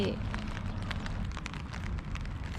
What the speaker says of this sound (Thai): มันถ่ายยากลำบากเพราะว่าฝนตก